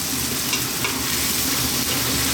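Bell peppers go into a pan for Jamaican brown stew chicken, producing a dense, constant, close frying sizzle with faint stirring.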